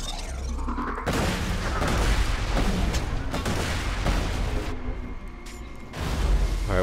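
Rocket launcher blasts and booming fire in the shooter Borderlands 2 on Xbox One X, a loud, sustained rumble of explosive shots with brief gaps, close and dominant.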